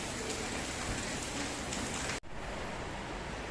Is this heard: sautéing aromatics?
no